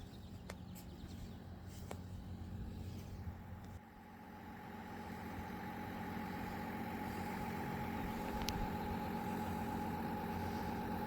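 A vehicle engine idles steadily in a parking spot, a low constant hum that holds at a moderate level throughout with a slight dip partway and occasional faint clicks.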